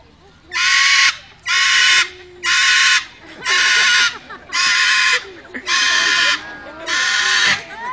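Seven loud, harsh screeches from a parrot at a zoo bird show, in a steady rhythm, each lasting about half a second with short gaps, close and piercing.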